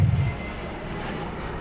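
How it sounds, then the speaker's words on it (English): An airplane passing overhead near Newark Airport, a loud, broad engine roar that swells at first and then holds as a steady rumble. "Wait for this other plane."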